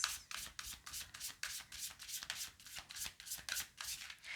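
Tarot cards are shuffled by hand in quick, rhythmic riffling bursts, about three per second, close up and crisp with no talking.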